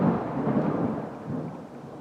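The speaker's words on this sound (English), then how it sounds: "Did you hear that thunder?" Thunder rumbles low and steady with rain beneath it at the start of a song, a continuous close roll of about two seconds with no voices over it.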